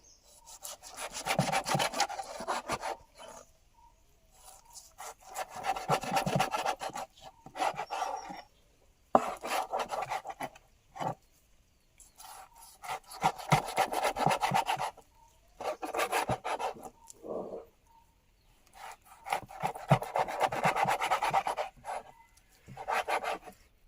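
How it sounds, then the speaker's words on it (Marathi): A blade cuts through a very large boneless fish into big pieces, making repeated rasping, sawing strokes in bursts separated by short pauses, close and fairly quiet. "हे बघा असे पीस करतोय मोठे मोठे असेच होणार पण बोनलेस आहेत"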